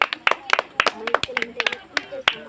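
Intermediate students at a gathering clap in sharp, uneven bursts, with individual claps close and distinct rather than a smooth roar, while voices talk over them.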